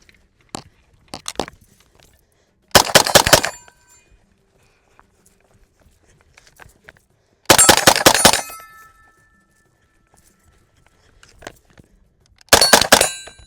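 A Draco firearm fires three sharp, loud bursts of rapid shots spaced several seconds apart, close and crisp, with near silence and faint small clicks between the strings of fire.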